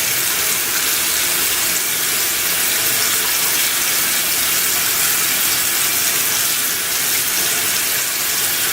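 Tap water runs steadily into a sink as a little is collected for wetting hair, a continuous close hiss with no pauses and no talking.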